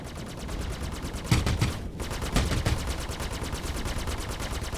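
Rapid, continuous automatic gunfire from ship turrets in the space video game Star Citizen, a steady loud stream of shots throughout, briefly cutting out near the middle before resuming.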